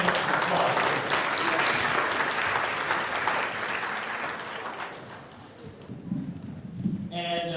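Audience applause for a panel at an MLK Day celebration, loud sustained clapping that gradually thins and fades, leaving a few scattered claps and faint voices at the end.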